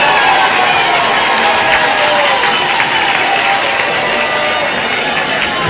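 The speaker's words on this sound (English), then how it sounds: "A big round of applause for Uganda." Conference attendees at a regional nursing and midwifery scientific gathering give a loud, sustained round of applause as a national chapter processes in, a thick continuous roar of clapping with a faint crowd murmur beneath.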